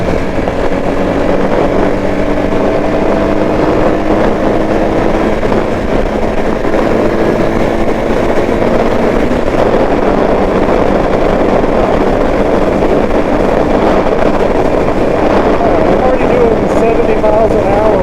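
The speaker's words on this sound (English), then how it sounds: "The windshield does make the wind a little bit more choppy, so I don't know how the sound is going to be" Wind buffets loudly and continuously around a motorcycle windshield at interstate speed, a dense roaring rush over the engine drone, with a rider talking beneath it.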